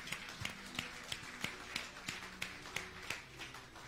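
Congregation clapping for the Lord during a Sunday church service, a steady run of sharp claps about every third of a second, fairly close and even, with no voices over it.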